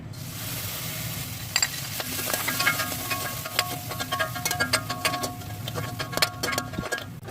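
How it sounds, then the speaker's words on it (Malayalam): Dried shrimp roast in hot oil in a pan, giving a steady close sizzle with scattered crackles and light scraping taps of stirring. "ഇനി ഇതേ എണ്ണയിലേക്ക് ഉണക്കച്ചെമ്മീൻ ഒന്ന് ഇട്ട് കൊടുത്ത് അത് നല്ലതുപോലെ ഒന്ന് റോസ്റ്റ് ചെയ്തെടുക്കാം."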